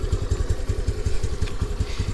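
A 2022 Honda NAVI motorcycle with a carbureted engine idles after a cold start, a close, steady low thumping pulse with a slightly uneven, lumpy rhythm and no talking.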